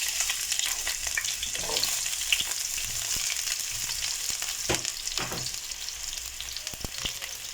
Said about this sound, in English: pour in some oil to your cooking pot, and then once the oil is hot enough, you can now add in your onions